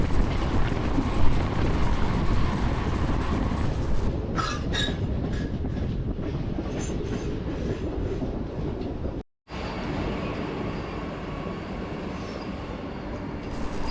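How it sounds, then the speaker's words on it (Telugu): A train arrives close by at Warangal railway station with a heavy, continuous rumble and high metallic wheel squeals riding over it. "ఈ ట్రైను ఖమ్మం రైల్వే స్టేషన్ దాటాక వరంగల్ చేరుకుంటుంది"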